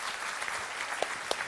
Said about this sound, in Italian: un applauso ai nostri ospiti.